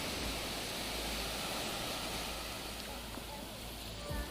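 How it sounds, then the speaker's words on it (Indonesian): Ocean surf at Clear Water Bay beach in Hong Kong in the late afternoon, a continuous broad wash of breaking waves and wind rushing steadily, with a faint voice near the end. "semakin sore ombaknya semakin gede"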